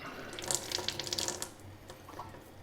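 Tap water running through a Kangen water ionizer, a splashing, hissing stream that is louder and bubbly for the first second and a half, then settles into a softer, steadier trickle.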